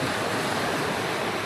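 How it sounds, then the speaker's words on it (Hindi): Ocean surf and steady wind at a beach at night, a continuous loud wash of breaking waves with gusty wind noise on the microphone throughout. "सूरज, इतनी अच्छी हवा चल रही है, सामने बीच है"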